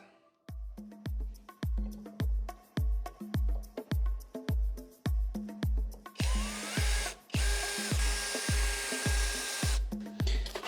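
A cordless drill drives screws into pallet wood in a steady series of short whirring bursts, each ending with a thump, close and alone, followed by a longer rough grinding run near the end.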